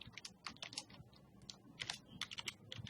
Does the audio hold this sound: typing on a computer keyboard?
yes